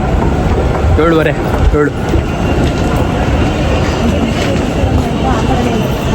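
A metro train runs along its line in Bengaluru, a loud steady rumble with rattling wheels, while people talk nearby over the noise.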